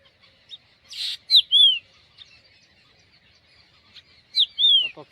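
On a farm, a bird gives clear, high whistled calls in two short phrases a few seconds apart, close and distinct against near silence, with a brief rustle between them.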